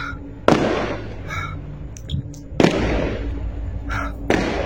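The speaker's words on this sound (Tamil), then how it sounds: "அது நடுராத்திரியாடா வெடி வெடிப்பீங்க?" Firecrackers go off at midnight in three loud, sharp bursts a couple of seconds apart, with quieter crackling and faint background noise between.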